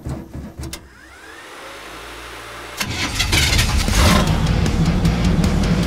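A monster truck engine cranks with a few stuttering bursts, catches after a brief lull, and swells into a loud, sustained rumbling rev close by.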